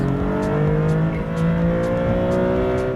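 A Maserati MC20 pulls hard under turbo boost, its engine tone rising steadily as it accelerates, loud and close from inside the car with no talk.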